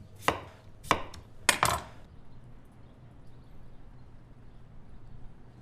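A knife chops potatoes into chunks on a board for a beef hot pot: four sharp, close knocks in the first two seconds, two of them close together, then a quiet kitchen hum.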